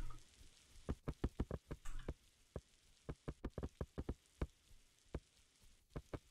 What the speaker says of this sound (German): Ah ne, es regnet.